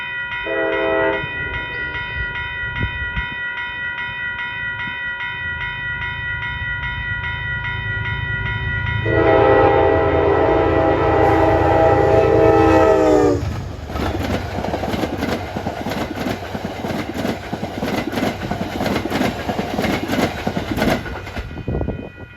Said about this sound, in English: Here comes the last of the expresses, train 857.